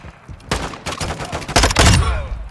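Gunfire crackles in the Warzone 2.0 DMZ video game, with several loud, close bursts of shots in quick succession and heavier blasts toward the end.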